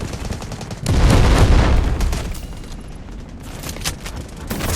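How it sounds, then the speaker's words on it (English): An artillery barrage and gunfire in the Delta Force video game fill the scene: a heavy rumbling blast sets off a dense roar, followed by scattered cracks of rapid distant shots. "Artillery barrage incoming."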